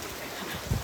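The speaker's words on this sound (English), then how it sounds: "so it is pouring, as you can see, and it's still beautiful, even in the pouring rain" Steady broadband hiss of heavy rain pouring down at a resort in Playa Mujeres, continuous and fairly loud, with a brief low thump near the end.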